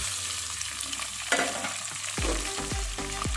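Chicken pieces sizzle and crackle in hot sesame oil, a steady frying hiss with a few louder bursts and scraping stirs near the end, no voices.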